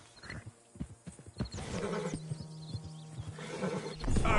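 A horse in the Red Dead Redemption 2 game whinnies loudly, with a few hoof clops and shuffling steps around it, fairly close and with no talking over it.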